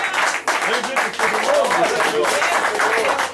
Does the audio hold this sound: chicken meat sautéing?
no